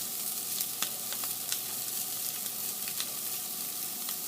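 Skirt steak sears on a grill with a steady, bright sizzling hiss, punctuated by small pops and crackles, close and continuous with no voices.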